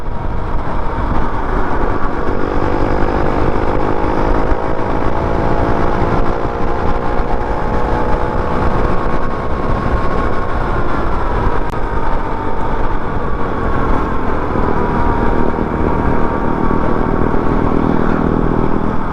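A Rusi TC motorcycle engine revs loudly and steadily as the bike pulls away at speed, its rising and falling engine tone continuous with road noise and no talking.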